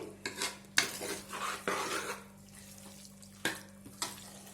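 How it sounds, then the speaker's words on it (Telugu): Cauliflower curry with chana dal is stirred in a pan, a spoon scraping and clinking against the metal in repeated close strokes over a low steady hum, with no talk. "మరోసారి మొత్తం ఇలా కలుపుకునేసి ఇలా 1 నిమిషం పాటు కలుపుకుందామండి"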